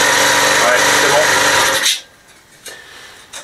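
A repaired Husqvarna 35R brushcutter's small two-stroke engine revs loud and raspy, then cuts off abruptly, leaving quiet with a couple of faint knocks.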